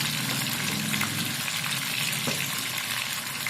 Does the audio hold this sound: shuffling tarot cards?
no